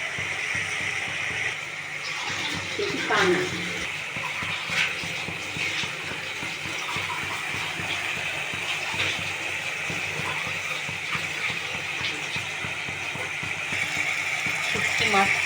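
Turmeric water pours steadily into a pot of lote shutki and mankochu curry, giving a continuous hissing, splashing flow that runs for the whole stretch.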